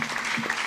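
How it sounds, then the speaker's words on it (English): Brief audience applause at a stand-up comedy show, a short burst of scattered clapping from a small crowd. "Let's have some claps."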